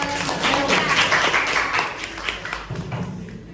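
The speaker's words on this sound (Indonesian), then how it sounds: "Boleh tepuk tangan." A classroom of students claps, producing a busy patter of hand claps that is strongest early and thins out toward the end.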